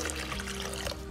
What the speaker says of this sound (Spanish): Vamos a proceder a preparar nuestra salsa y vamos a agregar un chorrito de agua.